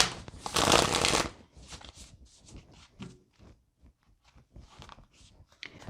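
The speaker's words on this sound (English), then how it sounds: "I want to shuffle here and see, like, why they'll fall for you" Tarot cards shuffled up close during a card reading, a loud dense riffle in the first second followed by softer intermittent card slides and taps.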